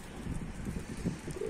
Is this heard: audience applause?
no